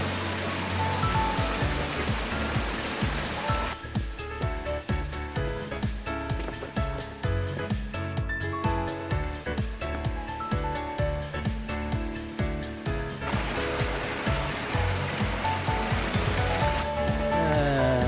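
A mountain valley stream rushes in a dense, constant wash at the foot of Yumyeongsan in a national recreation forest in summer. The flow is close and steady throughout, with no voices.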